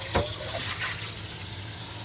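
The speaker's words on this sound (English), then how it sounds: "Again, rinsing with water only." Hot tap water runs and splashes steadily into a cast iron pan as it is rinsed at a sink, with a short clatter near the start and a continuous close hiss of water throughout.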